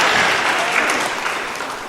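Volunteers at a church service at Christ Church, High Harrogate receive steady applause from the congregation, a dense, even wash of clapping that fades slightly toward the end.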